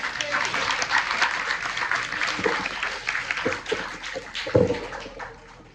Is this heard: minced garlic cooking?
no